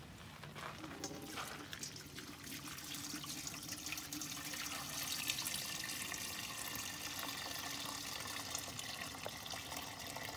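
Steady liquid pouring and splashing into a container, a continuous close trickle with faint drips throughout, no voices.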